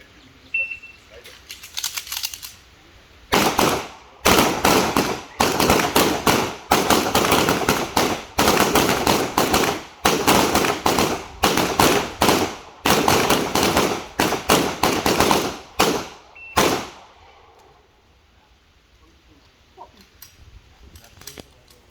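Rapid strings of close, loud gunshots on a target shooting tournament range, fired in quick bursts for about thirteen seconds after a quiet start, then stopping into near silence.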